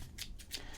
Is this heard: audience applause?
no